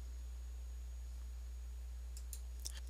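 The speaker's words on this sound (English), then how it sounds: "we right mouse click" Two or three soft, sharp right-clicks of a computer mouse arrive near the end against a quiet, steady electrical hum.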